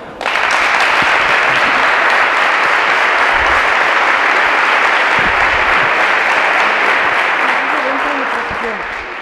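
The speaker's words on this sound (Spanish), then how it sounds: "Un fuerte aplauso para ella." A crowd at a tribute event in the greyhound racing world breaks into loud sustained applause that starts abruptly and holds steady, dense clapping filling the room with faint voices beneath before easing slightly at the end.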